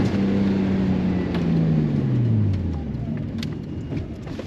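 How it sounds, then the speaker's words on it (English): A Nissan Skyline GTST car drives along, its engine a steady low hum with a falling pitch sweep midway as it shifts or slows, heard from inside and fairly loud throughout. "This car handles and drives so smooth."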